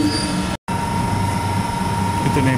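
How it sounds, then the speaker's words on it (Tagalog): A Sydney train rumbles loudly and continuously at a station platform, with a low steady drone, a brief cut-out and faint squeal near the end. "Yung train nila."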